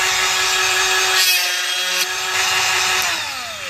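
Granberg precision grinder running with a tool grind stick fitted, a steady close whining hum with shifting grinding tones throughout and no talking.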